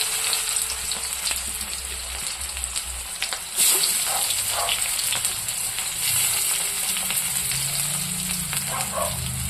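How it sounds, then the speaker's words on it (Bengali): Onion fries in a hot kadai for a dry fish chutney, giving a steady, close, continuous sizzle with occasional louder crackles and a brief clatter of stirring. "পেঁয়াজটা একটু লাল লাল করে ভাজবো"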